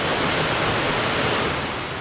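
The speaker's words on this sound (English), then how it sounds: "check out this waterfall, which is where we are at the moment" A waterfall roars as a steady, loud, broadband wash of falling water, close by and unbroken, with no voices over it.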